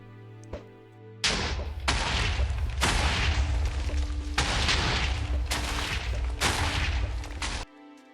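Guns fire in a modded Minecraft game, a run of loud, dense bursts of shots and booms that last several seconds before cutting off.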